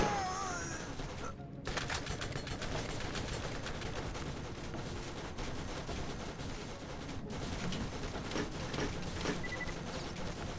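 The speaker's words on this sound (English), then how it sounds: "Shoot, there's a turret out there," Turret fire in Borderlands 1, with a steady, fairly faint stream of rapid gunshots rattling continuously for the whole stretch, dense and unbroken with brief gaps.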